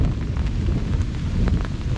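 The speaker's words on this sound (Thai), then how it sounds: "ฟ้าร้อง" A deep, rolling rumble of thunder fills the low end, with the hiss of rain falling steadily over it.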